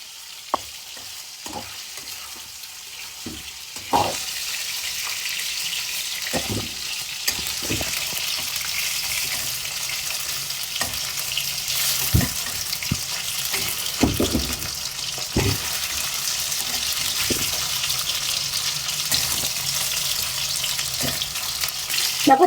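Paneer cubes frying in a pan, a steady close sizzle with repeated clinks and scrapes of a spatula stirring, and no one talking over it.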